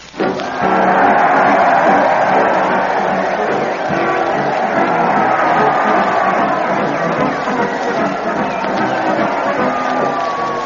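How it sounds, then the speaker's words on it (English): A large crowd cheers and roars continuously at a parade in a 1936 comedy radio broadcast. The dense, lo-fi wash of voices holds steady and loud throughout. "Listen to that crowd. They're cheering madly as they march along with Fred Allen and his parade to the old town hall."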